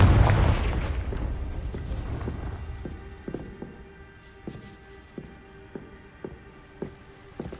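A Confringo blasting spell explodes in the Hogwarts Legacy video game: a loud, booming burst that fades over a few seconds, followed by a steady run of light, regular footsteps.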